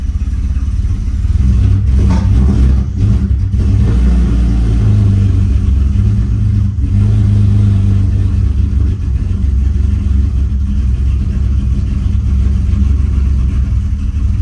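A BMW E46 drift car's engine, misfiring after a VANOS rebuild, holds a loud, steady rough idle with uneven clattering pulses and short rises in revs running the whole time.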